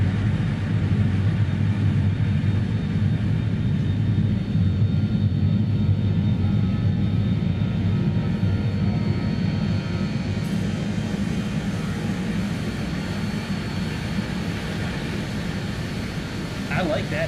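BAE 146 jet engines heard from inside the cabin in the flight simulator MSFS 2020, a steady low rumbling drone with a constant hum, continuous and even throughout, fading slightly toward the end.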